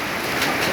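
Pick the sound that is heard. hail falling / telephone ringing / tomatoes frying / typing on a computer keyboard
hail falling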